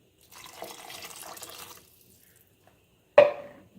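Water is poured into a pot of chicken curry in a short splashing run lasting over a second, followed by a quiet pause and then a sharp, brief clatter or splash that quickly fades.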